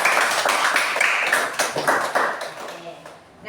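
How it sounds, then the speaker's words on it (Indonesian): Classroom of students clapping together, a dense burst of loud applause that fades out over a few seconds, with children's voices mixed in. "Oke, tepuk tangan sekali lagi untuk kita semua."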